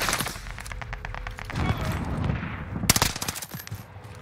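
Rapid bursts of gunfire in a shooter video game, a loud crackling volley early on and a sharper cluster of shots near the end, with no talking over it.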